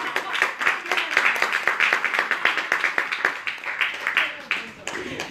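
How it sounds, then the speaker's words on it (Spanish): Rhythmic clapping from a small audience at an association event in Talavera, with sharp, evenly spaced claps that carry on steadily and fade near the end. "Un aplauso para ella."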